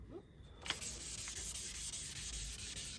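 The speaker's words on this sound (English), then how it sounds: "that's when you know that it's actually sanding" Steady, rhythmic rubbing strokes of wet sandpaper on a car headlight lens during restoration, close and fairly quiet, repeating evenly without speech.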